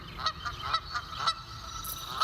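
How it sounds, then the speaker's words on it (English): A goose honks repeatedly in quick, rhythmic calls, close and clear over a low background hum. "We have a goose, which we ought to have given your lordship."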